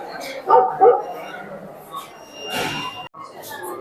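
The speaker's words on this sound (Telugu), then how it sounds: "సౌండ్స్ వస్తాయి డిఫరెంట్ పెద్ద chimpanzee sounds, dog sounds, monkey sounds వస్తాయి." Monkey-repelling device at a school science fair playing recorded dog barks: a few loud, close yaps and bow-wows over background chatter and hall noise.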